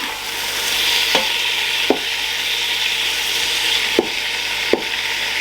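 Lamb pieces searing in a Ninja Foodi Max pot while being stirred, a steady sizzle with a few sharp scrapes and knocks of the utensil against the pot, close and without talk.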